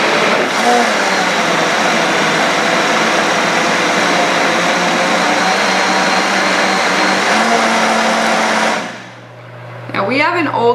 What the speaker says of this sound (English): Now we have an older blender, so our blender goes off a time.